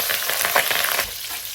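Washed, skin-on sliced garlic hits hot oil and fries in a loud, dense sizzle that crackles steadily up close for a moment before easing slightly.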